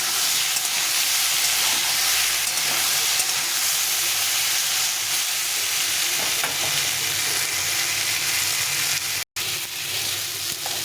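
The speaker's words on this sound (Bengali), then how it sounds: "এর মধ্যে একসঙ্গে আমি আলু আর সয়াবিনটাকে ভালো করে ভেজে নেব।" Potatoes and soybean chunks fry in a pan with a loud, constant sizzle and hiss that fill the whole stretch and break only briefly near the end.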